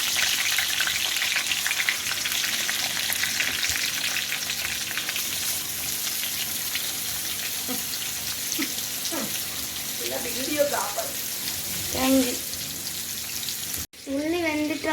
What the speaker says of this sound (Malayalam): ഇതാണ് നമുക്ക് ഫ്രൈ ചെയ്യാനുള്ള മീൻ